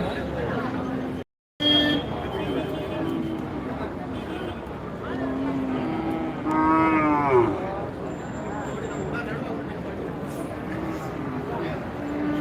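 Cattle moo repeatedly across a busy Manapparai cattle market, heard over a constant din of crowd chatter and people talking nearby.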